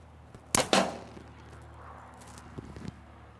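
An arrow tipped with a Magnus single-bevel broadhead, shot from 10 yards, slams into an industrial steel drum chemical tank lid, giving one sharp loud metallic crack followed by a brief ringing rattle. Faint handling noise follows.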